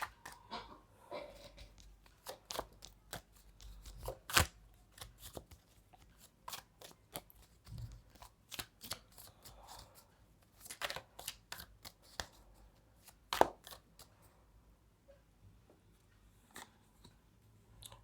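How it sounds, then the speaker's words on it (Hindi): Tarot cards being shuffled by hand, a faint, close series of irregular riffles and flicks with occasional sharper snaps, continuing without talk. "थोड़ा सा टाइम लगेगा मुझे शफलिंग में और कार्ड्स निकालने में"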